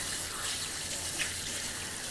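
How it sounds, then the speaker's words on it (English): Tap water running steadily into a sink while asparagus is rinsed, a soft continuous hiss and splash at low level. "Let me rinse off the asparagus."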